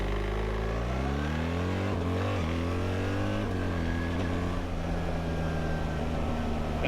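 A BMW R 1300 GS Adventure motorcycle engine revving with the clutch held, a loud close drone whose pitch climbs and dips through several throttle blips before settling into a steady hum.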